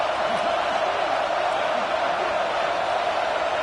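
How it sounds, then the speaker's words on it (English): Alabama home crowd at a Louisville vs Alabama college football game roaring on third down, a steady, dense wall of broadband stadium noise holding at one level throughout with no breaks. "The Tide crowd rolling noise down onto Saban Field on 3rd down."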